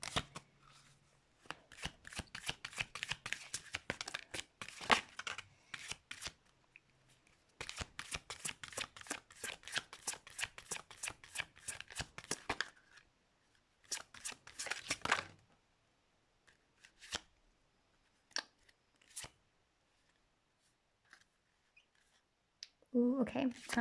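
Tarot cards are shuffled and drawn by hand, heard up close as long runs of crisp riffling and flicking that break into shorter bursts and scattered single card snaps after a few pauses.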